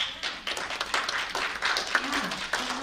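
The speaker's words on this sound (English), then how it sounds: "give her a round of applause" A small community gathering on social workers claps briefly, with scattered close hand claps mixed with murmuring voices, moderately loud and uneven.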